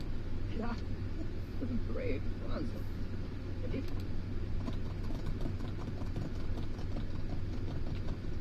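Horse hoofbeats clop steadily as a horse is ridden in the video game The Sims 4 Horse Ranch, with a constant game ambience underneath and a voice speaking briefly early on.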